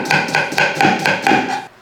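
A large onion being finely chopped with a knife on a board: about seven quick, evenly spaced chops, close and crisp, with no voices.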